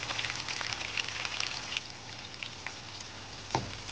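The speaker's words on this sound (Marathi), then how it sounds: "अशा पद्धतीने आपण हाताने घालून भाजून घेऊया, तळून घेऊया।" Corn pakodas shallow-frying in hot oil, a steady close crackling sizzle with scattered sharp pops and spits, heard alone throughout.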